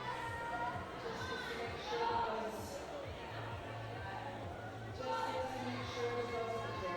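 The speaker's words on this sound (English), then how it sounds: "Loads of support still pouring in from the crowd behind us." Crowd at a youth speed-climbing championship final, faint distant chatter and occasional cheering swelling in short bursts, with scattered voices and children calling out in the background.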